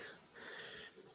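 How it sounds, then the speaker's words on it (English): Close, breathy wheezing of someone breathing right into a microphone, a steady airy hiss swelling through the middle and easing at the end. "you're breathing into the mic."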